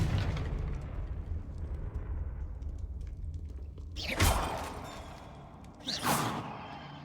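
Spell blasts from the Confringo fire spell in the video game Hogwarts Legacy: two loud, bright bursts a couple of seconds apart, each with a sharp crack that fades out over a steady ambient game rumble.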